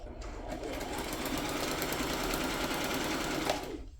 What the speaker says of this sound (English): So let's do our stitching down there.